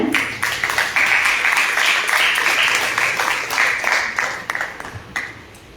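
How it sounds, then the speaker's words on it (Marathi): Loud, dense applause from an audience at a stage program, sustained for several seconds before gradually thinning and fading out. "जोरदार टाळ्या."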